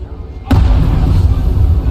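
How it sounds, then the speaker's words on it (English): A train explodes in Call of Duty Black Ops 3 with a sudden loud blast after a quiet moment, followed by a continuous heavy roar and rumble close by. "do you remember the train exploding?"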